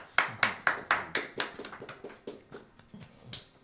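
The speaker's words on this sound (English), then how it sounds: "And there's a lot of applause." Hands clap in a quick series of sharp, close claps that start strong and gradually thin out and soften over a few seconds, with no talking during the clip.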